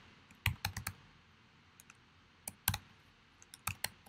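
Keys clicking on a computer keyboard in a few short bursts of taps separated by pauses, fairly close and quiet, with no talking.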